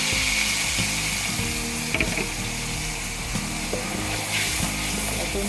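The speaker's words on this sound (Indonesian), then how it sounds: "Kita tumis bumbu-bumbu yang tadi sudah kita blender." Blended spice paste sautéing in a pan for spiced crab, a close sizzling hiss under scattered scraping and clattering of a utensil against the pan, with no one speaking.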